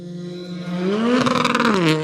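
A Ford Fiesta R5 rally car tears past on a forest stage at the Southern Ohio Forest Rally, its engine screaming, climbing in pitch as it nears and then dropping away, loud and close with no talk over it.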